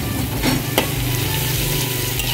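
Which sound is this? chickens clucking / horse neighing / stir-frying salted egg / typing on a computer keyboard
stir-frying salted egg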